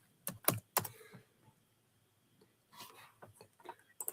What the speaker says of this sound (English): I don't know what I be typing sometimes.